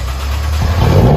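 Nissan GT-R twin-turbo engine heard from inside the cabin, a low steady drone that swells and climbs in pitch partway through, close and loud throughout.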